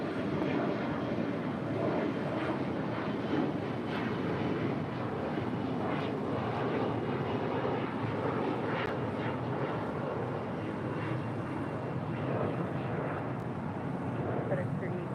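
Airliner taking off at LAX, a broad continuous engine roar that stays steady and fairly loud throughout, with air traffic control radio speech running over it.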